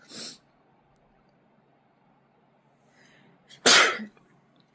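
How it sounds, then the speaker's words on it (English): A single loud sneeze bursts out near the mic, preceded by a brief sharp intake and some quiet shuffling in an otherwise still room. "I just want to sneeze because I've got hay fever"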